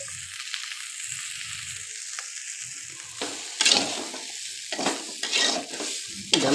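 Eggplant slices frying for baigan bhaja, an Odia dish, giving a continuous bright sizzle and crackle in a pan, with intermittent scraping and stirring noises swelling louder toward the end.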